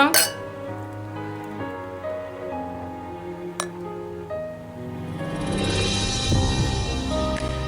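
Glasses clink together in a toast, a bright short clink at the start and another brief one midway, followed by a sizzling, clattering background while people talk.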